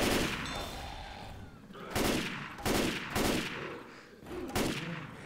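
Bursts of gunfire in the zombie shooter Left 4 Dead 2, several loud volleys at irregular intervals over a steady game backdrop, with no talk.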